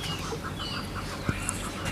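Aseel and Mianwali roosters and hens clucking softly in a yard, brief low clucks amid a busy background hum, with a short sharp knock near the end.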